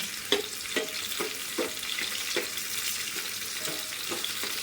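Green chilies fry in hot oil for a home-cooked khichdi, giving a steady broadband sizzle with regular scraping stirs of a spoon in the pan every half second or so, close and alone without talk.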